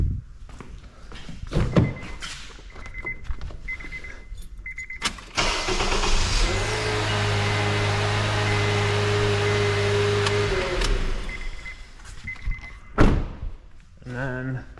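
A 2011 Honda Accord engine cranks during a starter test. A long steady whirring crank runs for several seconds, preceded and followed by clunks, beeps and handling noises, with speech audible.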